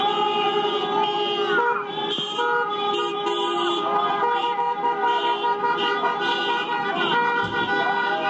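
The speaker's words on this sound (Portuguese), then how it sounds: "os apoiadores do Bolsonaro realizaram buzinaço na rodoviária do plano piloto" Car horns honk continuously at a pro-Bolsonaro protest at the Plano Piloto bus station in Brasília. Several horns blare at once in a dense, sustained chorus of overlapping tones for the whole stretch, with no talk.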